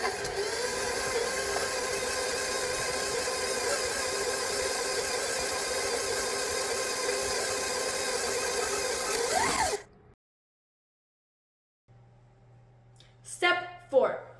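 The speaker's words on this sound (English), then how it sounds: "we're going to mix that in with our dry ingredients on low speed until moist" Stand mixer running on low speed, blending butter, egg mixture and dry ingredients for a lactose-free pound cake: a steady whirring motor drone that stops abruptly, followed by silence and then brief faint clatter.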